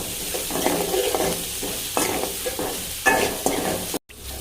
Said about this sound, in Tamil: இதை நல்லா உப்பு வெங்காயம் நல்லா மிக்ஸ் ஆகிற அளவுக்கு நல்லா அதை மிக்ஸ் பண்ணி விட்டுப்போம்